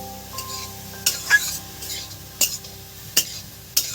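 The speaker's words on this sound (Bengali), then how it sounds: "নেড়ে চেড়ে নিচ্ছি" A spoon scrapes and stirs papaya laddu mixture in a pan, with sharp clinks against the metal every half second or so over a faint low sizzle, close and without talk.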